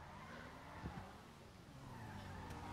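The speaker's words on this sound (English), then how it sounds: "You spun out." A car spinning out and skidding in GTA 5, with steady engine roar and tire noise sweeping through a continuous, fairly loud wash of driving sound.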